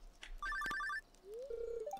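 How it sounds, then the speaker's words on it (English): In the Stardew Valley video game, a telephone rings with a quick trilling electronic chirp, followed by a rising tone and a steady beep, clear and fairly quiet with no voices. "Is that the phone?"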